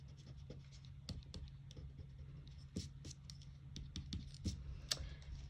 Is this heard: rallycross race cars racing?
no